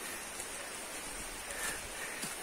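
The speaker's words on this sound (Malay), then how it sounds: "Hujan." Steady rain falling in a forest, a soft continuous hiss of drops on leaves and ground with no voices.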